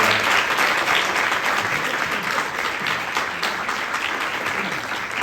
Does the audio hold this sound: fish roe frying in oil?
no